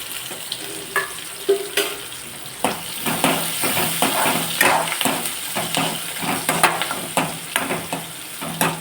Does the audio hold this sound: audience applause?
no